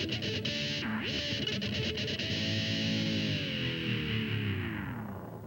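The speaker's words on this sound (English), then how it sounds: "use a PS3 digital pitch shifter with an EV5 expression pedal." Distorted electric guitar through a Boss PS-3 digital pitch shifter in whammy mode, worked by an EV-5 expression pedal; a few choppy strums, then a held chord sliding smoothly down in pitch, loud and alone.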